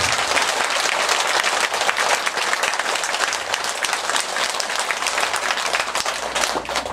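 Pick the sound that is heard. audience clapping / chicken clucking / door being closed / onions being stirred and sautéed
audience clapping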